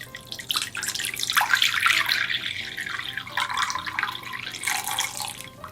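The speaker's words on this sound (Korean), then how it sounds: "물을 다 잠기지 않을 정도로만 이렇게 부어주세요" Water poured from a container into a pot of peeled potatoes in a home kitchen, a steady close splashing stream that swells and eases over several seconds with no talking.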